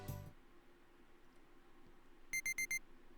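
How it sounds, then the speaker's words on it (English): Watch alarm in the visual novel game Never 7 going off: after a quiet stretch, four quick bright electronic beeps in a tight, even rhythm, clear and alone. "My watch alarm goes off."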